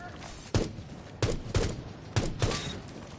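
Gunfire in the video game Rainbow Six Siege: five sharp single shots in a slow, evenly paced sequence, moderately loud with short decaying tails and nothing else over them.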